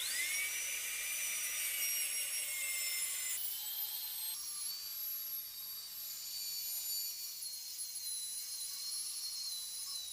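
A Dremel rotary tool grinds steadily on an AM6 moped cylinder being ported, a close, continuous high-pitched whine whose pitch drops in steps as the load changes, with no talking.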